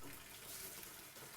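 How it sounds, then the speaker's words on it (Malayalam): Water gushing from an open tap in a household bathroom, a steady hissing rush that stays even and fairly soft throughout, with no voices. "ആരാ ഇതിനകത്ത് പൈപ്പ് തുറന്നു വിട്ടേക്കണേ?"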